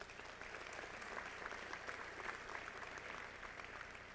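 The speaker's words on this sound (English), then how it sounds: "Let's give them another round of applause to all those folks." A medical school graduation audience applauds for friends and family, steady dense clapping that is faint and distant throughout.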